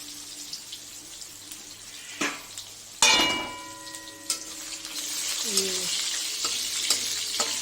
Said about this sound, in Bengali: আলু দিয়ে দেবো ভাজতে